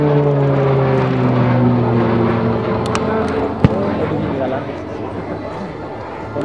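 An aircraft roaring overhead during a barrel-roll display at the Tanagra air show in Greece, a loud engine drone shifting in pitch and slowly fading, with a sharp bang partway through and a commentator talking over it.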